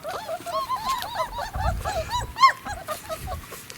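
Repeated high, wavering whimpers and yelps from young dogs, several overlapping in quick succession, with low rustling and thumping underneath.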